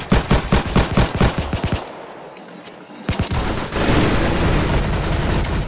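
Rapid automatic gunfire in the video game Arsenal: loud, evenly spaced bursts of shots, a brief pause, then a second sustained volley that blurs into continuous firing.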